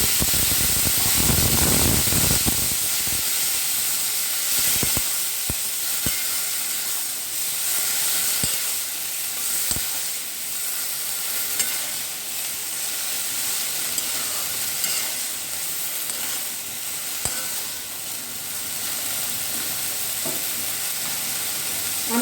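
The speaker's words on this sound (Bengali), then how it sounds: "এই অবস্থায় আমি এই কাবু ছোলাটা দিয়ে দেব অবশ্যই সেদ্ধ করা কাবু ছোলা দিয়ে" Boiled kabuli chickpeas hit a hot pan of reddened oil and spice masala, giving a sharp burst of sizzling that settles into a long, steady hiss with occasional spoon taps.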